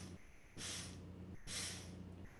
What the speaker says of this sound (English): Inhale, 4 sniffs through the nose.